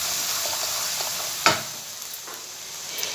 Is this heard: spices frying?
yes